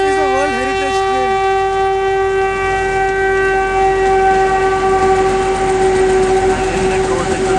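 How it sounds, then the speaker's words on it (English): A toy train's horn on the Shimla heritage railway wavers at first, then settles into a long, steady blast over the continuous rumble of the nearby train. "toy train is approaching."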